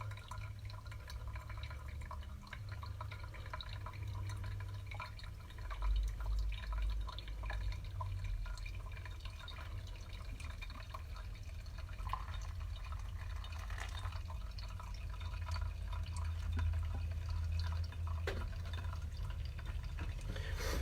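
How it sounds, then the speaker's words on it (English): Water drips and trickles through coarse and fine coffee grounds in two brewers. Faint, continuous patter and small splashes sit over a low background hum, with no talking. "I'm going to pour just a decent amount of water into both of these and really try to highlight how very differently they flow."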